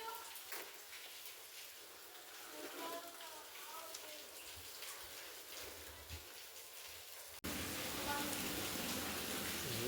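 Steady rain falls in a second monsoon downpour, a broad hiss of drops on surfaces with voices talking over it, turning abruptly heavier and louder near the end.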